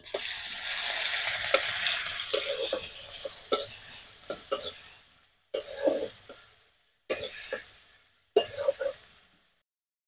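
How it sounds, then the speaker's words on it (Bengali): Onion paste frying in mustard oil with whole spices such as nigella, cinnamon, cloves and cardamom, a loud steady sizzle at first, then broken by repeated clanks and stirring knocks with quieter gaps between. "পেঁয়াজ ভাজা ভাজা হয়ে গেছে।"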